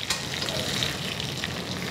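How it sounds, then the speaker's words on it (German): Garlic and pigeon searing hard in olive oil hot enough to catch fire, a steady, loud, close sizzle and crackle of frying that runs unbroken throughout with no voices. "Wenn er zum Beispiel Knoblauch und dazu eine Taube so scharf anbrät, dass das Olivenöl Feuer fängt."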